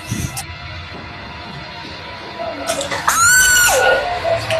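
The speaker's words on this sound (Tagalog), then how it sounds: "Oh, ano ba sinisigaw-sigaw mo?" A person screams loudly at close range, a sharp high cry that breaks out after a quieter stretch. There is faint background noise before it and a brief voice sound at the start.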